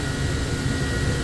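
Mazak HCN 8800-II horizontal machining center spindle spinning at 10,000 RPM, a steady dense high-speed whir and rushing hum, loud and constant throughout, no talk.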